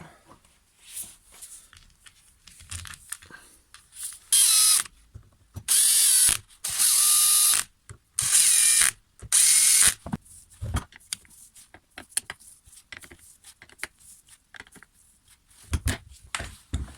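Screws being removed from the cover of an old-style Stihl HL hedge trimmer: five loud bursts of a power driver whirring, scattered among sharp ratcheting clicks and small metallic handling noises, with no talk.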